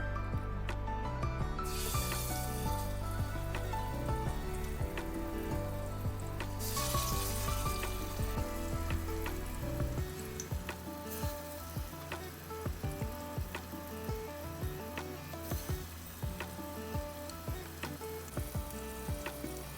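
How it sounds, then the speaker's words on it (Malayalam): Fish frying in sunflower oil for a mandi meal, a steady close sizzle running the whole time, with utensil scrapes and stirring taps, mostly in the second half. "നമുക്കിതിലേക്ക് സൺഫ്ലവർ ഓയിൽ ഒഴിച്ച് ഇത് ഫിഷൊക്കെ ഫ്രൈ ചെയ്തെടുക്കാം"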